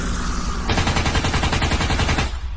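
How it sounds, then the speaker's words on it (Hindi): Sustained machine gun fire rattles in a dense, unbroken burst that runs almost the whole time, loud and close, in an animated horror story about a grandfather shooting wildly at Gulli Bulli and others. "बाबा तो गुल्ली बुल्ली और बाकी लोगों पर अंधाधुंध फायरिंग कर रहे हैं"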